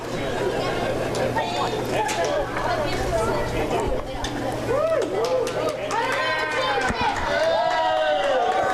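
A wrestling crowd at a live Ryse Wrestling event fills the arena with a steady roar of cheering and chatter, while a commentator talks over it throughout.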